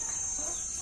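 A mother hen of the ayam ratu breed, being treated for fever and a cold, clucks faintly and softly over a thin, steady background hiss.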